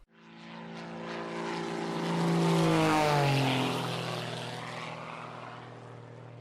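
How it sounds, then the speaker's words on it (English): A working model airplane jet engine runs steadily with a loud whirring roar. The sound swells and then slowly eases, with layered humming tones that shift in pitch, close by and with no talking. "a working model of an airplane engine"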